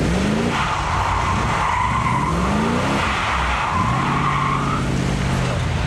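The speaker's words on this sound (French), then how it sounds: "avec l'accélérateur, on arrive à gérer la glisse" A 2010 Shelby GT500 sliding on a drying road under acceleration, its loud engine revving and rising through gears while the tires squeal and skid continuously, close and dominant throughout.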